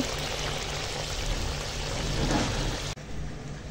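Cooked bhola fish curry is tipped out of a wok, producing a steady, close pouring and sloshing rush that cuts off abruptly near the end.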